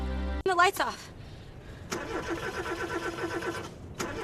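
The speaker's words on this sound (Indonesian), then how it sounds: "Berkali-kali ia memutar kunci kontak, tetapi mesin tetap tidak mau hidup." A car engine cranks repeatedly without catching, with short grinding bursts separated by pauses, heard alongside talking voices in a dramatic scene.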